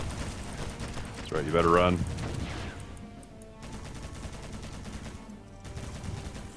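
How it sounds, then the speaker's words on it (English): A minigun fires in a World War II shooter game, a dense, sustained roar of rapid gunfire that runs on steadily after a voice shouts over it. "Now I have the minigun."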